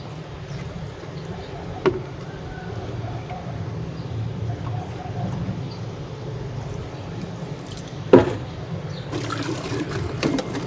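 Lukewarm water poured into a container for cleaning a car headlight makes a steady, moderately loud splashing trickle, with a couple of brief sharper knocks.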